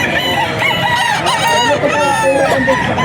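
Several roosters crow and chickens cluck close by at a poultry auction market in Bocaue, overlapping calls in a busy, noisy setting with faint voices underneath.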